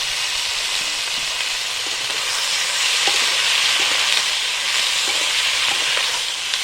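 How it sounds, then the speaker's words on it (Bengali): Beans, potato, eggplant and radish fry in a pan with a loud, steady broadband sizzle, close and continuous, with occasional soft clicks from stirring. "তরকারিগুলো দিয়ে দিচ্ছি সিম আলু বেগুন আর হচ্ছে মূলো দিয়ে একটু তরকারিটা কষিয়ে নেবো"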